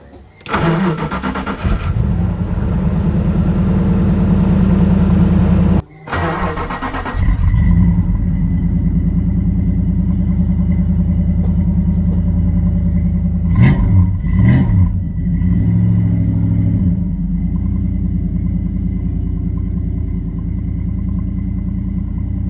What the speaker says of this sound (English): Let's start that engine up and dry it off.